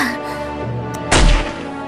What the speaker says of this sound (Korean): 총소리가 들렸어.